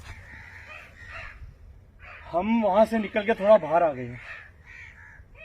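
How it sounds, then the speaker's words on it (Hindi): Crows caw outdoors among trees in a short burst of loud, harsh calls midway through, while someone talks quietly before and after. "ये कौवे बोल रहे हैं"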